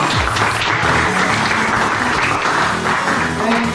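Students in a classroom burst into dense, continuous applause that stays loud and steady from start to end, while a faint voice carries underneath.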